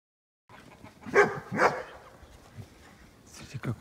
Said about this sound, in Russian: Собаки загоняют курей.